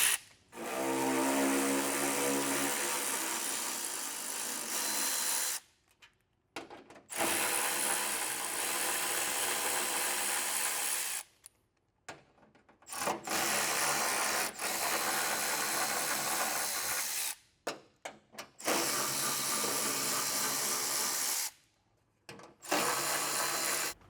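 Hand ratchet loosening the screws on the steel frunk panel of a Tesla Cybertruck: several bursts of rapid, close clicking separated by short silent pauses, with no talking.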